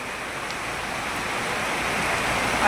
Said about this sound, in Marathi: मुसळधार पाऊस या ठिकाणी पडत आहे